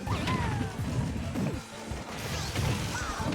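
Forward smash attacks landing in a Super Smash Bros. tournament grand final, a run of loud crashing hits and whooshes over busy game noise, with a brief lull midway before the impacts resume.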